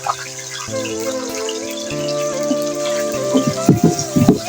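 Half a kilo of chicken goes into a karahi of crackling whole garam masala, frying with a steady sizzle that swells into louder bursts of spitting near the end, over a low background hum.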